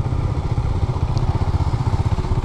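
A Husqvarna 401 Svartpilen motorcycle rumbles steadily while being ridden, its loud, low engine pulsing in a rapid, even beat without any speech.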